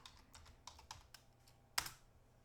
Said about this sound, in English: Benihana, we can type in server.